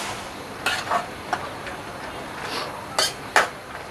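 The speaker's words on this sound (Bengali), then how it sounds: "সবগুলো এখন নেড়ে চেড়ে ভালো করে মিক্স করে নেব।" A spoon stirs potatoes and pui shak greens in a pan, giving a few scattered scrapes and knocks over a soft background hiss, fairly close and without talk.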